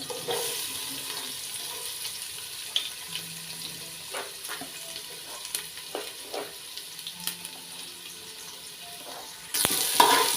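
Green chillies, onions and garlic fry in a pan for a chicken and sweet corn rice, a soft steady sizzle with scattered ticks and small clatters, then a louder knock at the very end.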